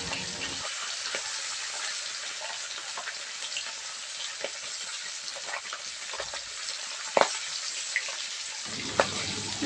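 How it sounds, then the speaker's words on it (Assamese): Fish pieces fry steadily in hot oil in a wok, a continuous broad sizzle with scattered crackles and a few sharper pops near the end, close and fairly loud, with no talking. "এয়া দেখিছেনে ধুনীয়াকৈ মাছ পিচ ফ্ৰাই কৰি লৈছোঁ।"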